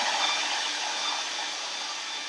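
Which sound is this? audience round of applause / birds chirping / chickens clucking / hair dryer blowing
hair dryer blowing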